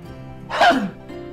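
A single close, loud sneeze bursts out in a quiet indoor scene from a Turkish TV drama, with a faint murmur of talk around it.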